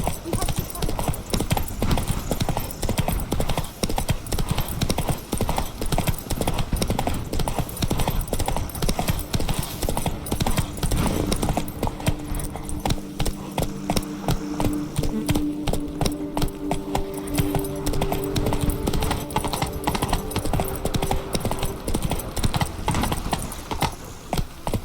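Horse hooves clatter in a steady, rapid galloping rhythm throughout a Witcher 3 ride, loud and continuous, while voices speak over them for much of the time.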